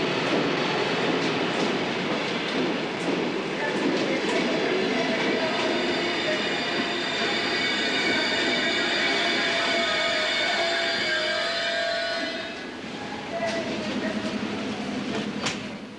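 A train pulls into a station with a continuous heavy rumble and a high metallic wheel squeal, the noise easing slightly near the end as it slows; no one speaks.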